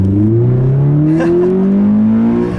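A 2017 Toyota 86 with a manual gearbox and TRD upgrades accelerates hard in first gear, the loud engine note climbing steadily in pitch from inside the car with no talking.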